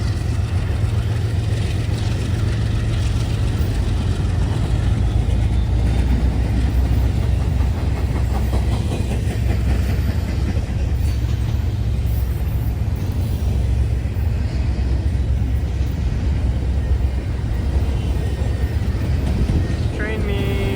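A manifest freight train rolling through St. Joe and Garrett, Indiana, a loud, steady low rumble and rattle of rail cars passing close by that holds for about twenty seconds without letting up.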